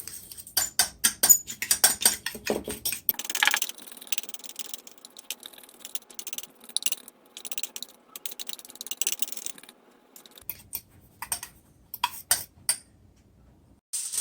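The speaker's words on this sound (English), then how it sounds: "Take all those spices and mix them all together." Dry spices for a baby back ribs rub, cayenne pepper among them, stirred together with a spoon in a bowl: quick irregular scraping and clinking strokes, close and fairly quiet, with a short pause midway.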